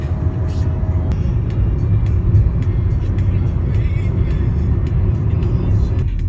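Inside a car cruising a desert highway in California with windows shut and air conditioning on full, a steady loud low road rumble and fan drone continue evenly, with a few faint clicks.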